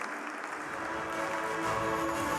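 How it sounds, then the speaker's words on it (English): Audience applause at a sugar industry award ceremony, a steady, dense wash of many hands clapping that swells slightly toward the end, with faint voices underneath. "please give a round of applause for DCM Group"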